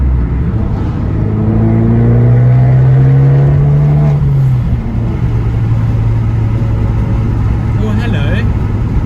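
A 2018 Abarth 595 Turismo engine drones steadily, then its pitch rises and drops sharply as it downshifts into third, over continuous loud road and cabin rumble.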